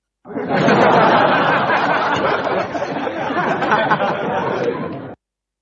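A giggle sound effect from a Bonkyo F-999 soundcard: a burst of high-pitched giggling laughter, bubbly and continuous for about five seconds, then cutting off abruptly.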